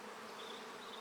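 Honey bees buzz in an opened hive during an early season inspection, a faint, steady drone of many wings with a slight wavering pitch and no voices.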